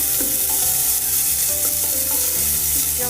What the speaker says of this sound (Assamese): ইয়াত মই ফ্ৰ'জেন মটৰ অকণমান দি দিম, আৰু সেইখিনিও আকৌ লৰাই লওঁ পুনৰ